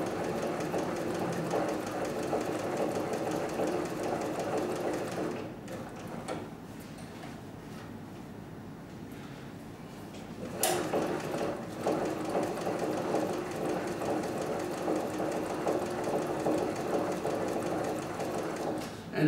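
Walking-foot sewing machine stitching bag material runs with a steady, rapid mechanical chatter, pauses briefly in the middle, then resumes at an even pace, fairly close.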